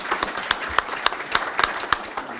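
Audience applause at a county meeting, a few hands clapping in a quick, slightly uneven rhythm, moderately near, brief and thin rather than a full ovation.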